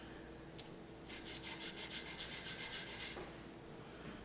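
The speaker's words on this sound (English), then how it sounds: "Let's sand the edge down." A piece of winter coat work has its edge sanded by hand in a quick, even run of about a dozen rhythmic rasping strokes over roughly two seconds, close and fairly quiet, with no talking.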